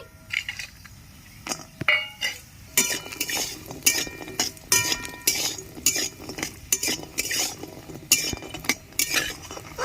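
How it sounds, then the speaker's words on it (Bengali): Lentil dumplings fry in hot oil in a wok while a metal utensil repeatedly scrapes and clinks against the pan, giving a close, rhythmic series of clatters over a faint sizzle. "কড়াই তেল গরম হয়ে গেছে আমি বড়িগুলো ভেজে নিচ্ছি"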